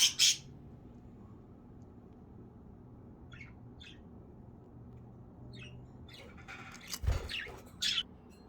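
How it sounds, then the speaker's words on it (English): Pet budgie chirping and squawking in short bursts, with a loud squawk at the start and scattered chirps later, fairly close against a quiet room background. "It's just a bird."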